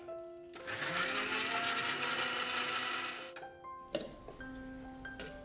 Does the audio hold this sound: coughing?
no